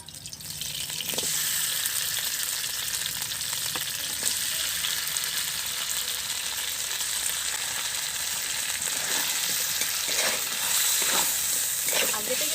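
Chicken sizzling and frying in a hot wok for chow mein, a steady loud hiss running throughout with occasional stirring clatter.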